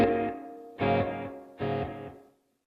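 Three distorted electric guitar chords, each struck and left to ring, run through a Headrush Flex Prime with its Echo Light delay effect, the last one decaying to silence.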